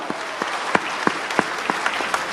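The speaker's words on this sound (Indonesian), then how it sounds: "Oke, tepuk tangan, silakan duduk kembali Bapak Ibu" Seated listeners at an Indonesian sales seminar applaud in evenly spaced bursts of claps, a rhythmic beat of about eight loud hits over a soft crowd murmur.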